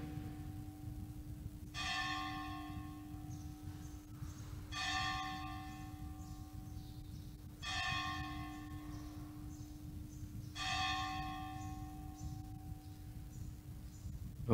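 A large metal temple bell at Krishna Balaram Mandir in Vrindavan is struck four times at steady intervals of about three seconds, each ringing tone decaying slowly over a constant low hum, with no voices.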